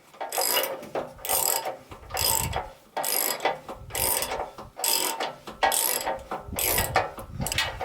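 A socket wrench ratchets on the deck of a Wood-Mizer sawmill, giving loud, close, repeated bursts of rapid clicking in a steady back-and-forth rhythm.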